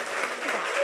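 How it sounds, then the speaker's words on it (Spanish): A short burst of steady applause from an audience, dense and even throughout. "un aplauso así con muchas ganas"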